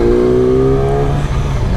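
A 2019 Yamaha R6 sport motorcycle engine revs loud and close on open roads, a steady high-pitched whine that climbs slightly and then eases.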